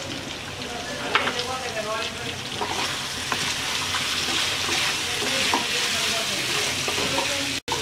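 Spiny gourd curry with jackfruit seeds and sliced green chilies fries in a pan, giving a steady close sizzle broken by the scrapes and clinks of stirring.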